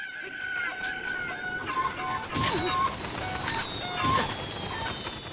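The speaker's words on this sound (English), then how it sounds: "you beat your chickens till they wage war" Chickens cluck and a rooster crows in Zelda Breath of the Wild, the in-game fowl calls repeating over a steady background tone.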